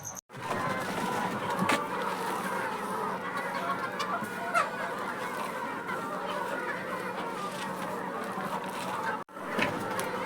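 Chickens cluck and chatter continuously inside a poultry farm in the Maldives, a dense, steady flock sound, close and fairly loud, with a couple of brief dropouts and no speech.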